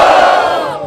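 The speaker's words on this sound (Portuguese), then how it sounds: "barulho pra essa batalha" A battle rap crowd at the Batalha da Aldeia in Barueri, São Paulo, roars and shouts loudly and close in a single sustained burst of cheering.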